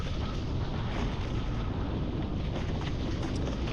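Steady, dense wind rush and water noise aboard a foiling DNA F1 A-class catamaran during a long-distance race, a constant loud roar with slight gusting swells throughout.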